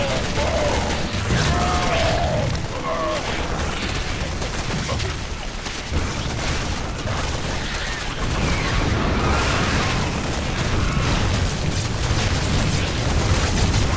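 Dense, continuous battle noise from a StarCraft II: Heart of the Swarm campaign mission, with rapid booms and gunfire bursts layered over one another, loud and close, steady throughout with brief voice lines mixed in.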